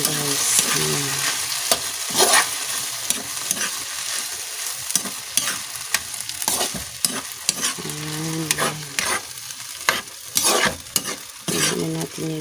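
Vegetables stirred while cooking in a pan, with a steady sizzle and frequent scraping and clattering strokes of a spoon against the pan, close and busy throughout with no talk.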